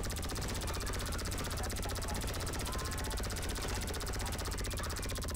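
Helicopter in the GTA Online video game: loud, steady rotor chop that pulses rapidly and evenly throughout, with a continuous engine drone beneath and no break.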